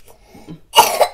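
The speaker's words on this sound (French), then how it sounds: "Le dernier toussé pour la route." A single person gives one last harsh cough, a loud burst following a soft lead-in of quiet breaths or murmurs, heard close up.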